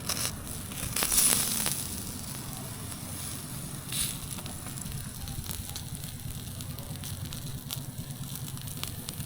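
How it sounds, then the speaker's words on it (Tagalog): Campfire burning on a sandy motocamping site with pork grilling over it, a steady soft crackle and hiss throughout with a brief louder flare early on, nearby and moderately quiet. "Nag-apoy nga siya. Sunog to."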